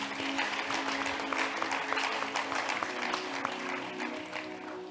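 A church congregation applauding during a meeting with a prophet, dense steady clapping from many hands throughout, with faint voices mixed in.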